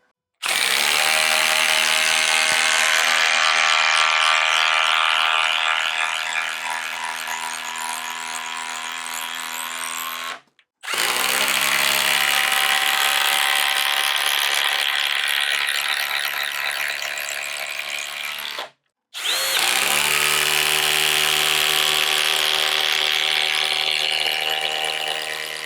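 A DeWALT driver sinks 3/8 x 8 inch Spax lag screws into timber in three long, loud whining bursts of motor and impact clatter, separated by two brief pauses.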